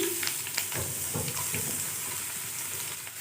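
Onions frying in sesame oil in a home kitchen pan, a steady close sizzle with a few stirring scrapes and clinks.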